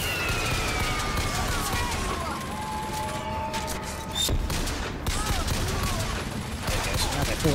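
Automated turret firing in the video game Bioshock Infinite lets out rapid, sustained bursts of gunfire mixed with sharp cracks and impacts, with a voice talking underneath.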